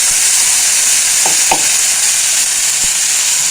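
Tomato, garlic, onion and ground spice paste sauté in a pan with steady loud hissing and a few brief scraping stirs of a spoon.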